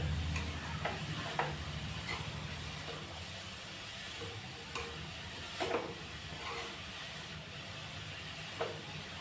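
Spinach and chana dal sautéing in a kadhai, a soft steady hiss of frying with occasional light scrapes of a spatula, fairly quiet and close, without talk.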